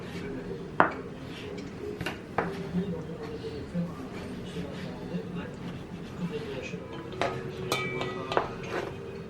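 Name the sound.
cutting an aubergine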